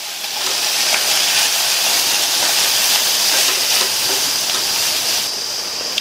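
Cumin, pepper and coriander powder sauté in a hot pan for a Tamil lunch dish, giving off a steady, loud sizzling hiss that holds unbroken throughout with no voices over it.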